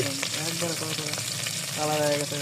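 Steady sizzling of food frying in a pan, with a few faint tonal hums running underneath the crackle.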